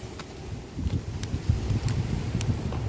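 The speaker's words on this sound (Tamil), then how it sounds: "காத்து செம்மையா அடிக்குது" Strong outdoor wind buffets the microphone, a rough low rumble that swells and gusts unevenly throughout with faint scattered rustling on top.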